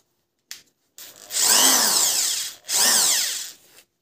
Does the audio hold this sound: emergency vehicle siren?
no